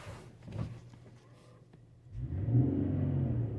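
A 2015 Infiniti QX70 engine revs up after a quiet idle, building into a deep, loud rumbling roar that holds steady close by.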